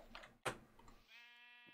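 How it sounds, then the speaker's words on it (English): A single blocky Minecraft sheep gives a clear, close bleat with a tonal, wavering cry, following a sharp thud and some faint game noise. "Oh, there's another sheep."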